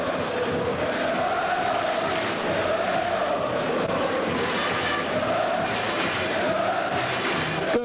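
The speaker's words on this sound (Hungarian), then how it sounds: "Körmendi közönség nagyszerű hangulatot varázsol ide a sportcsarnokba" A packed basketball sports hall crowd during a 1996 Hungarian league final game in Körmend keeps up a loud, continuous roar of chanting and cheering, with rhythmic swells of voices throughout.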